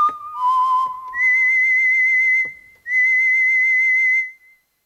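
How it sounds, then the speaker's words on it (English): Pure electronic whistle tones from a Behringer Neutron synthesizer glide between pitches in three sustained phrases, loud and clean with LFO warbling vibrato and no other sounds. "you get a nice whistle effect."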